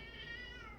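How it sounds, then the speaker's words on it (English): A domestic cat meows once in the background, a faint drawn-out tonal cry heard alone. "That's our cat in the background."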